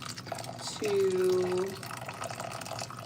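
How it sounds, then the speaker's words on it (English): Water is poured into porridge while it is gently stirred, a short steady pouring stream lasting about a second, close and fairly loud amid light kitchen noise. "Pouring the water in while gently mixing"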